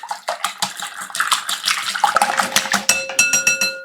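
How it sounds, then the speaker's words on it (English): Four raw eggs are whisked in a bowl, the rapid rhythmic taps and clinks of the whisk against the side sounding close and clear. "Now I'm just going to give that a little whisk."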